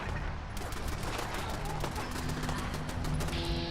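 Automatic turrets firing at zombies in Fallout 4, a steady, rapid stream of shots under a thick, noisy combat din that holds at a constant level throughout.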